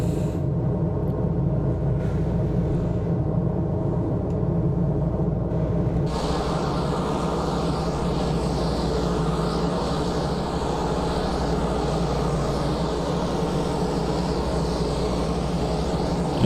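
Engines of a C-130H transport in Microsoft Flight Simulator during a touch and go, a steady loud propeller-turbine roar that thickens and deepens partway through as power comes up, continuous with no talk.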